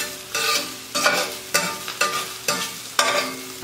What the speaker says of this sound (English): I'm gonna start frying this.